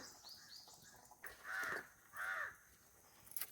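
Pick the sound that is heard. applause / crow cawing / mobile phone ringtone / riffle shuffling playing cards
crow cawing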